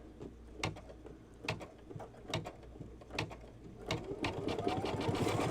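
A sewing machine runs a triple stitch across a small quilted mug rug, its needle thumping in short close bursts that build into a faster continuous run at the end.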